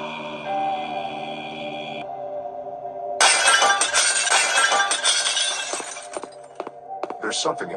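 Glass shatters in a video game: one loud, bright crash of breaking glass bursts in over a steady electronic tone, followed by several seconds of scattered tinkling and clinking debris.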